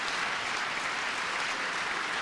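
Applause from a few people on the Democrat side during a presidential address to a joint session of Congress, a steady dense patter of clapping holding throughout at moderate level with no voices over it.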